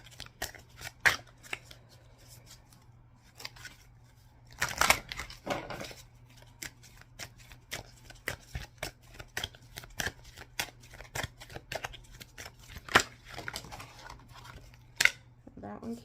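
Tarot cards are shuffled during a love reading, with sharp riffles and soft flicks of the deck repeating close by and a quiet steady hum underneath.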